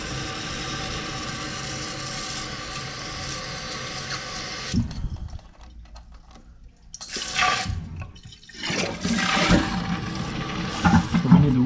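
A toilet tank refilling after a flush: steady rushing water gives way to a quieter gurgling pause, then renewed splashing and trickling fill, close and moderately loud with no talk.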